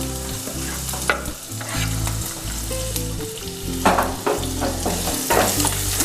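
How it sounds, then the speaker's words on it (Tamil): Chopped onion and curry leaves fry vigorously in oil for broccoli biryani, a loud, continuous close sizzle with intermittent spatula scrapes and a low steady hum underneath. "அடுத்தது வெங்காயமும் கருவேப்பிலை தலையும் ஆட் பண்ணிக்கிறேங்க."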